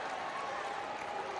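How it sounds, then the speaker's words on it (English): Crowd noise at an African Schools Football Championship match, rising after a goal by Ghana's Jennifer Wuku; a sustained, dense roar of cheering and applause fills the whole stretch at steady loudness. "And the crowd will celebrate."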